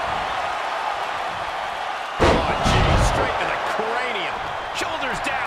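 Wrestling impacts in WWE 2K23: an elbow strike and basement drop kick land with a sharp slam, followed by crowd roar and an excited commentator talking over the noise.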